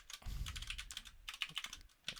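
Someone types on a computer keyboard while filling out a sign-in form, with uneven bursts of close, crisp key clicks separated by short pauses.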